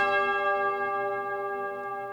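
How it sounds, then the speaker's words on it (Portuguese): A church bell struck by a sacristan during a retreat talk rings out with a sustained, shimmering metallic tone that slowly decays over a couple of seconds, with no talking over it. "Toca o sino, sacristão."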